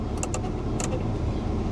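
A Chevy SSR engine idling, a steady low rumble heard from inside the cabin, with a few brief light clicks near the start.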